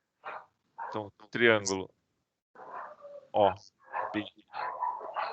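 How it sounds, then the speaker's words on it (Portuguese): A dog barks in a home somewhere behind someone speaking Portuguese, and its yips and barks fall between his phrases and mix with them. "Tem um cachorro aí latindo"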